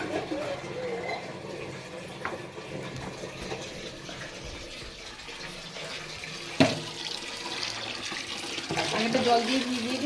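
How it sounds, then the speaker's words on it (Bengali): Tap water runs steadily into a sink while a gas stove table is washed, with a broadband wash of flow, a sharp knock partway through, and the stream growing slightly louder toward the end. "আমি তো জল দিয়ে ভিজিয়ে দিই।"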